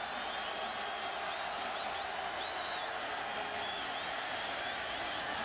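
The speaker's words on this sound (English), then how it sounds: "They were trying to demand the crowd get louder." Continuous roar of a college football stadium crowd at a WVU versus Marshall game, a dense, distant wash of cheering and whooping with a play-by-play voice talking over it.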